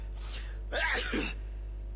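A character in The Witcher video game sneezes once, a short sharp burst of breath standing alone against a steady low background hum.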